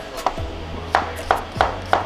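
Four sharp knife chops through lemongrass against a cutting board, spaced irregularly, each a crisp thud with a short ringing tail, nearby and otherwise quiet.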